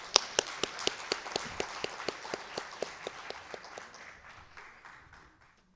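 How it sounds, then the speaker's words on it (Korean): Audience at an electrical engineering society conference clapping; distinct claps, at first strong and then thinning and fading out over a few seconds, with no talk. "큰 박수로 맞아주시기 바랍니다."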